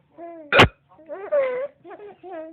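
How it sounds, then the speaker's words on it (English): A woman hiccups once, a sharp loud burst standing out between stretches of a child's babbling and laughing-like vocal sounds. "mommy got hiccups"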